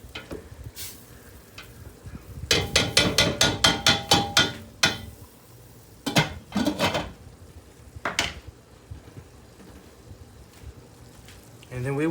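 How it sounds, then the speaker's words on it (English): Onions stirred in a hot pot on the stove: a burst of rapid scraping, clattering strokes, then scattered knocks and scrapes over a soft sizzle, with a voice talking in between. "And then you're going to want to stir your onions up."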